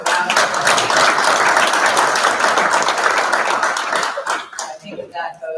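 Loud, close applause from a meeting audience fills the room, dense clapping that tapers off with a few stray claps and voices at the end.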